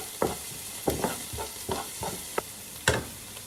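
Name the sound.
sautéing tomatoes with spices in a pan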